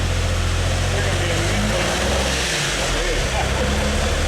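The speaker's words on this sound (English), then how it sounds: "not a happy engine right now, but it'll get better very soon." A 2009 Suzuki XL-7 V6 with a snapped timing chain runs roughly at idle, a loud, close, steady low rumble and drone with uneven texture throughout.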